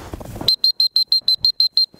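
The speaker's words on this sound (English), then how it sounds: "I'm quick to get on the whistle to get her back." A dog training whistle blown to recall a Labrador retriever during gun dog training: nine sharp, shrill, evenly spaced blasts in quick succession, loud and close, following a brief stretch of low background noise.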